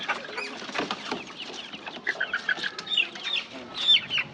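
Hens cluck and squawk at a poultry market, several birds calling close by in irregular bursts, some sharp and high-pitched, with no talk over them.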